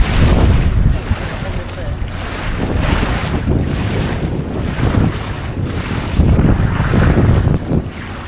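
Steady wind of about 20-25 km/h roars and buffets across the microphone aboard a boat moving at 7-8 km/h, with water rushing beneath, continuous and fairly loud throughout.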